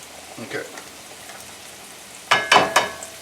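Garlic sizzles and crackles in a hot pan during linguine cooking, faint at first, then a few louder bursts of frying hiss near the end.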